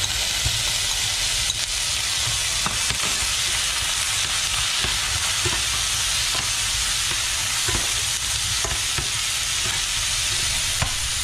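Potatoes sizzle and fry steadily in a hot pan for Korean-style tray black bean noodles, a loud continuous hiss with occasional stirring clicks and no voices.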